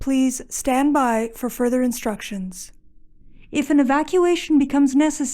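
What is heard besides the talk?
No everyday noises stand out.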